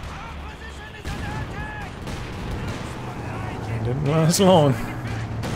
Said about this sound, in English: the mortar pit just blasting through these squads